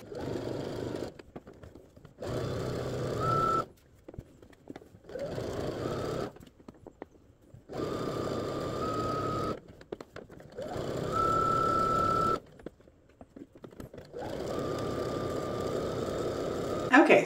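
A sewing machine stitches a skirt hem in repeated bursts of steady motor whir, each run lasting a second or two and separated by short pauses. It is close, moderately loud and heard alone.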